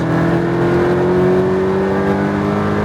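Porsche Cayman GTS accelerating on a track, a loud, steady engine drone rising slowly in pitch as it pulls through the gear, heard from inside the car with no talking.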